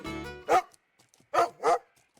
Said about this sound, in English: The sound of a barking dog interrupts my peaceful walk.